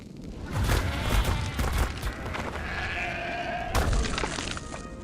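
Sheep bleating in the survival game Ark, heard as several wavering calls over a busy in-game background, fairly close and steady for about five seconds.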